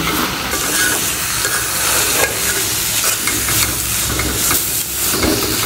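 Dried fish spice paste with chilli sizzles and hisses steadily in a hot pan while being stirred, with occasional scraping noises, close and loud.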